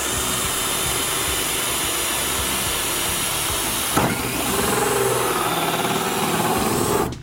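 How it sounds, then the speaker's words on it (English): A drill-driven hole saw cuts into an Akril decorative panel with a loud, steady whirring grind, close up, changing pitch briefly partway through before running on until it stops. "I'm going to show you how to use a hole saw."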